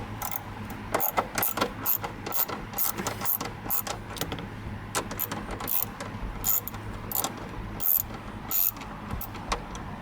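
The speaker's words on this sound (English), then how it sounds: "You need a 932 socket to take out those 2 screws." Socket wrench ratcheting as it backs out screws around the gauge cluster of a 1997 Ford F-150, a rapid run of close, crisp clicks with short pauses, heard near and alone.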